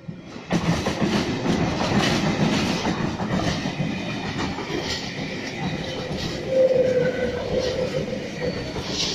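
A NSW TrainLink V-set intercity electric train passes through a station at close range, with a loud, sustained rumble of wheels on rails, rhythmic clickety-clack, and a brief rising squeal near the end. No speech is heard.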